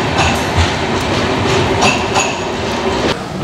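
A Rajdhani Express train departs Kota Junction: a loud steady rumble of the moving train from on board, with rhythmic clickety-clack wheel beats over the rail joints and no talking.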